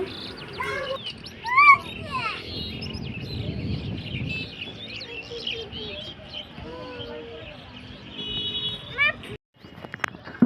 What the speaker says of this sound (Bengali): আর এখানে অনেকগুলো পাখি ডাকতেছে শুনতেও বেশ কিন্তু ভালোই লাগছে